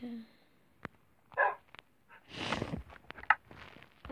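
A dog in the video game Minecraft barks in a few short, separate yips, with clicks and rustling between them and a noisier stretch in the middle.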